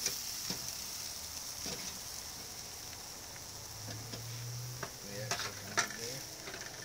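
Pork steaks cooking on a barbecue grill give a low, steady sizzle with scattered pops and crackles, while someone talks briefly over it.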